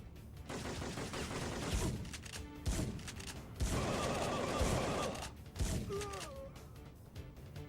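Gunfire from the video game Syphon Filter comes in several loud, broadband bursts and rattling volleys separated by short lulls, with faint vocal sounds mixed in.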